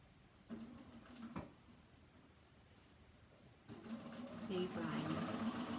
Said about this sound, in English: Don't go too much forward and back, because you don't want to get your needle stuck in the jersey fabric.